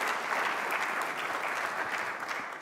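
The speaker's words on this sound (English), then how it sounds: "please, a round of applause for our platinum sponsors and all of the sponsors that make this" An audience at the Mackinac Policy Conference applauds the sponsors, a broad, even wash of clapping that holds steady before easing slightly at the end.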